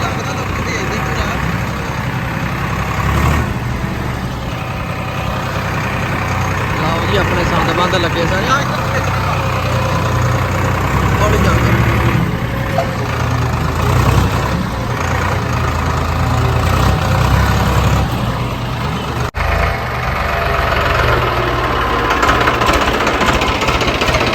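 A tractor engine idles continuously with a deep, knocking rumble, close and loud, over about twenty seconds.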